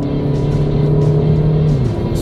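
An Audi A3 Sportback 2.0 TDI diesel accelerates hard on a four-lane road in drive, its engine note loud and steady and rising slightly before easing as it shifts.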